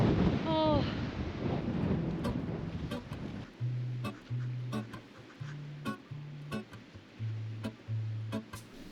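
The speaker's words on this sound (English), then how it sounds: "I desperately wanted to paint the view from atop the cliffs, but the wind was relentless and only getting worse." Strong gusting wind buffets the microphone atop coastal cliffs on the Aberdeenshire coast, a loud continuous roar with rumbling low gusts, while people talk briefly at the start.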